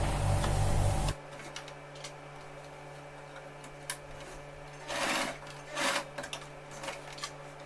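Sewing machine stitching elastic onto a homemade cloth face mask: a loud steady whirring run in the first second, then quiet with a few short bursts of machine stitching later on.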